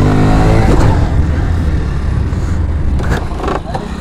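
Hero Splendor motorcycle engine revving hard during wheelie attempts, a loud continuous throaty drone with bubbling exhaust pops near the end, close and steady throughout.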